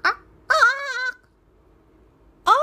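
A voice imitates a chicken with two short nasal clucking squawks separated by a pause, clear and close in a quiet room during a children's story reading.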